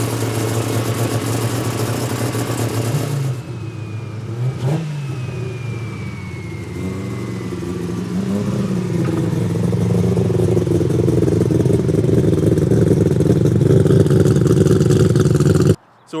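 A turbocharged three-rotor Mazda RX-7 engine runs on a dyno during break-in, a loud continuous engine roar with a brief dip in revs early on, then climbing steadily in pitch and intensity before cutting off abruptly.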